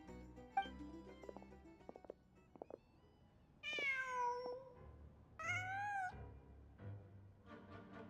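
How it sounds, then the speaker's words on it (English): A cat in the video game Genshin Impact gives two drawn-out, wavering meows a couple of seconds apart, close and clear over quiet game music and ambience, preceded by soft clicks and taps. "The cat! Huh. Just a cat."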